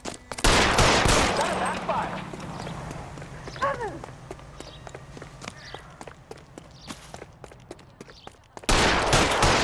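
Gunfire in the L.A. Noire video game, a dense burst of rapid shots opening and closing the stretch, with scattered sharp cracks and clattering in between and voices speaking over the quieter middle.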